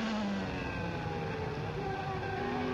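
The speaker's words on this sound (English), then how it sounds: "Running that brand new FW16 Williams with the Renault engine." Onboard a 1994 Williams FW16 Formula 1 car with a Renault engine at Aida Circuit in Japan, the engine screams at sustained high revs, shifting pitch steadily and loud throughout.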